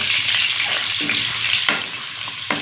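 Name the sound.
chopped onion frying in hot ghee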